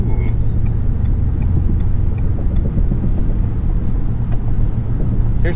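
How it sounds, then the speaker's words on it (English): Cabin road noise inside a 2021 Ford F-150 Hybrid XLT on 20-inch wheels at 70 mph on a loud concrete highway into the wind: a steady low rumble and broadband tire roar, constant and enveloping, with a voice speaking over it. "Here's 70 miles per hour on a loud section of concrete highway into the wind"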